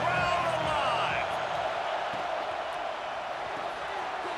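A stadium crowd at a football game makes a steady, broad roar on a third-down red zone play, loud at first and then easing slightly to a constant wash of noise, with a voice speaking early on.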